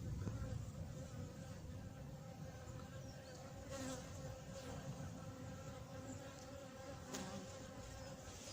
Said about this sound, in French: des abeilles qui traversent là